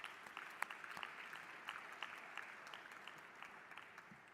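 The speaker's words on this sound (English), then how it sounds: "So I want us to give them a round of applause." A conference hall audience at a World Trade Organization ministerial conference applauding steadily, many hands clapping in a dense patter that continues evenly from start to finish at a moderate distance.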